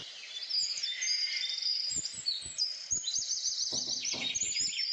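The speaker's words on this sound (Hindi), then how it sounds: "और परिंदों की भी यहाँ पर काफ़ी ज़्यादा आवाज़ें आ रही हैं।" Several birds chirp and sing outdoors in Córdoba, Spain, with bright overlapping tweets and trills, fairly close and continuous, alongside faint scattered knocks and bumps.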